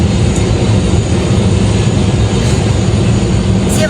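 Steady, loud engine roar from a cargo airplane on the 801 flight, heard from inside the cabin as a continuous low drone with no talk over it.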